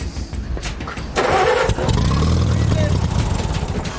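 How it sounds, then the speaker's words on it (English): A tractor engine cranks and struggles to catch, with a rough mechanical churn that builds into a loud, sustained running roar close by while someone speaks over it. "Guy can't get the tractor started"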